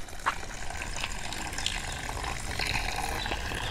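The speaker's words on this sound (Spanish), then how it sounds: "ahí un chorrito de agua que es de vertiente" A small trickle of natural spring water flows over a rock outcrop in the Comechingones hills near Achiras, Córdoba, a steady close splashing and gurgling without pause or speech.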